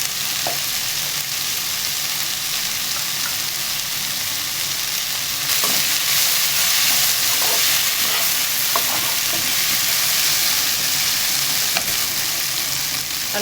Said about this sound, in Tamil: நல்லா காய்கறியும் சேர்ந்து நல்லா வதங்கட்டும்.